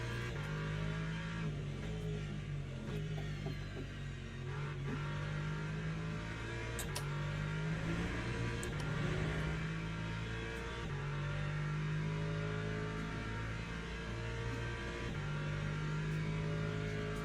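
A race car engine in the Le Mans Ultimate racing game drones with an aggressive, low growl, rising and falling through gear changes at steady volume for the whole stretch.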